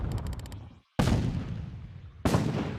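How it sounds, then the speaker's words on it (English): Firework explosions from the LittleBigPlanet 3 game: a quick crackling burst, then two loud booming blasts about a second apart, each fading into a long rumbling tail. "I've been using the destruction category explosion sound for 2 years"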